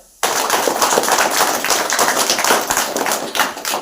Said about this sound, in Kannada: ಎಲ್ಲ ಟೀಚರ್ಗೂ ಸುಧಾ ಜೋರಾಗಿ ಚಪ್ಪಾಳೆ.